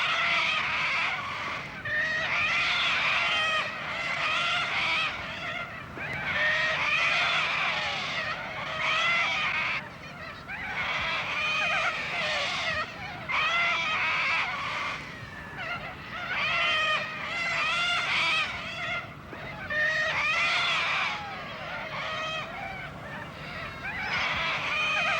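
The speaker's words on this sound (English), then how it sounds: "The gorge is a sanctuary for huge flocks of corellas, their raucous screeching amplified by the sheer walls." A huge flock of corellas screeches raucously in a steep-walled gorge, the harsh calls continuous and overlapping, loud and echoing off the rock walls with no one speaking.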